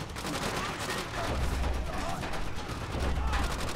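A machine gun fires in the video game Call of Duty: World at War, rapid loud bursts and overlapping gunfire rattling close by almost without pause, with voices shouting over the shooting.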